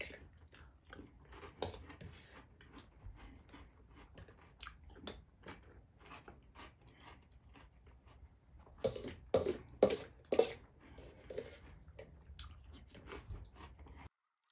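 Someone chews crackers with New England clam chowder, giving close, irregular crunches and wet bites throughout, with a louder burst of crunching toward the end.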